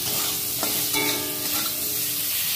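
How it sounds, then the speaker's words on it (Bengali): Potatoes fry in oil with salt in a pan while being stirred, a constant close sizzle broken by a few scraping stirs and utensil knocks, with no talking. "স্বাদ মতন লবণ দিয়ে দিচ্ছি, দিয়ে নেড়ে ছেড়ে ভেজে নেব আলুটা"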